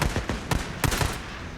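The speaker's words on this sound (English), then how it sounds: "an incredibly inaccurate gun" Sniper pistol in the video game Days Gone fires a quick irregular series of about six or seven sharp, loud shots, each with a short booming tail, with no talking over them.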